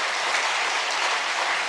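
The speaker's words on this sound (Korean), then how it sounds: "우리 한번 큰 박수로 한번 하겠습니다" A church congregation applauds its Sunday school teachers during a sermon, with steady, dense clapping filling the room evenly for the whole span and no voices over it.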